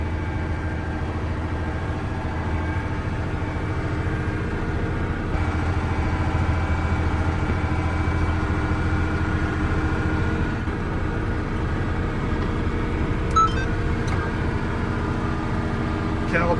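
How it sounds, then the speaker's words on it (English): A tractor engine runs steadily while the tractor drives in circles for auto steer calibration, a continuous mid-pitched hum close by with no pauses. "get the tractor in room where it'll have the area it needs to make it circle"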